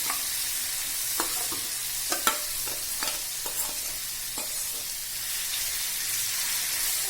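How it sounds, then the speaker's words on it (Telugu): Tempering fries in a pan for a chutney, a steady close sizzle with scattered sharp crackles and pops, continuous and fairly loud with no voices. "ఇందులో పోపు వేసుకుంటే"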